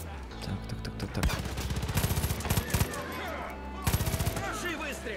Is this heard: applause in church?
no